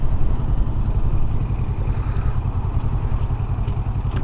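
A Kawasaki Versys 650 motorcycle engine runs continuously while riding, a loud, steady low rumble with a faint pulsing texture and no talk.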